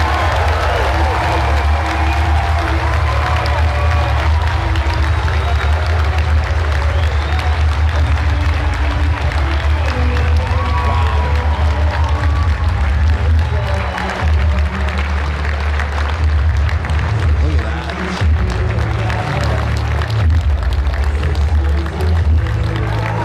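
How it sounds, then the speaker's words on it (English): A rally crowd cheers and applauds for Pierre Poilievre at the end of his rally, with sustained loud clapping and roaring voices. Scattered shouts rise over the dense crowd noise for over twenty seconds. "the pop he received from the crowd at the end of the rally"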